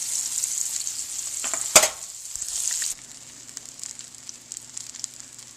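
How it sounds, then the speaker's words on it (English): Steady crackling sizzle of veal brains frying in a hot pan, with a sharp clatter partway through before the sizzling quiets slightly. "This is the second set of veal brain that I put in the frying pan."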